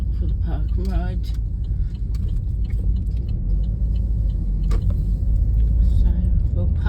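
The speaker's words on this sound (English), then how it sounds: "Just realised how noisy my car is, all the noises in it." Steady low road rumble fills a car cabin while driving into a park-and-ride car park, with faint rattles and clicks from the interior and brief voice-like tones early on; continuous and moderately loud throughout.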